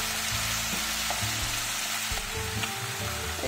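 Sac kavurma meat fries in a granite sac pan with a steady, close sizzle throughout, with occasional scrapes and stirring knocks and no voices.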